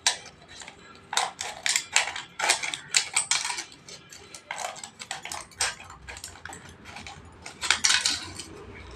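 Scissors snip through empty plastic-and-foil tablet blister packets in a series of sharp, crinkly cuts and rustles, close up and fairly quiet, with no talking.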